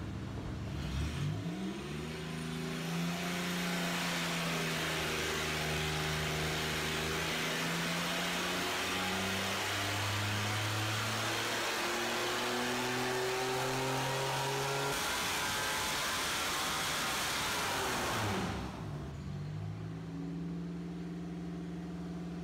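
Supercharged 3800 L32 V6 roaring through a dyno pull, engine note climbing steadily in pitch for about eighteen seconds under full load, then cutting off sharply and dropping back to a rough idle.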